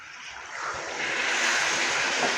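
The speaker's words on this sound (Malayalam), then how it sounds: "ഗ്രേവിക്ക് ആവശ്യമായിട്ടുള്ള വെള്ളം ഒഴിച്ച് കൊടുക്കുക." Water pours into an egg roast gravy in a pan with a steady, broad rushing hiss that swells slightly as the pour goes on, with no talking over it.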